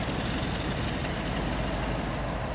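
Loud, steady rumble of an old Sulzer diesel locomotive engine in a video game, running continuously, deep and dense with no pauses.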